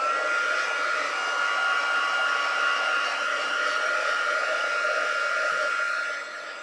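A handheld heat or drying tool blows a steady, loud whirring stream of air over a wet handmade Christmas card, running continuously before dropping off at the end.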